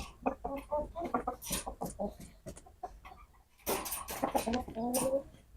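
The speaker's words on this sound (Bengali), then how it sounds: "এটা হলো পাহাড়ি মোরগ" A hill-breed rooster of over two kilograms clucks in quick, close runs of short calls, with a pause before another burst of clucking.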